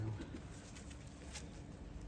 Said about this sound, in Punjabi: ਉਹ ਕਬੂਤਰ ਹੀ ਹੈ ਕਬੂਤਰ ਕਬੂਤਰ